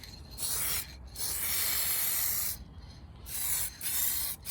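An aerosol rattle can sprays paint onto a Citroen C1 car sill in several bursts of hiss, each about a second long. The bursts are separated by short pauses and sound close and moderately loud.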